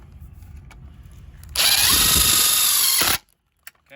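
A power drill drives screws into an RV awning rail during an awning topper install, one loud steady burst of about a second and a half rising out of quiet shop noise and cutting off sharply.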